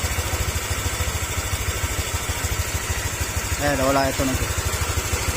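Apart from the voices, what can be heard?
Honda Click 125 v2 scooter engine idling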